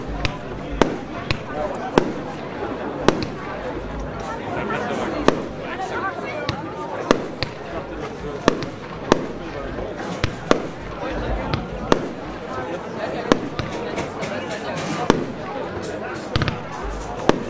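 APF firework shot batteries fire in a rapid string of sharp pops and bangs, dozens of evenly spaced shots over a crackling wash, heard from a distance.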